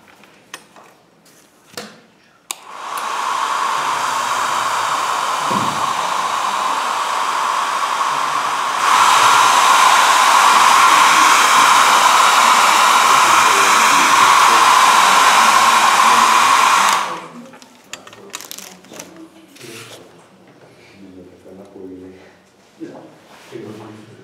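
A hair dryer blasts steady, loud airflow to dry a wet snow effect on a scale model, rising to a stronger setting partway through, with brief talk before and after.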